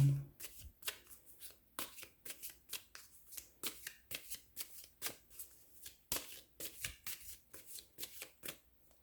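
Tarot cards shuffled by hand close up, a long run of quick riffling bursts in an uneven rhythm with brief pauses, soft overall and with no talking.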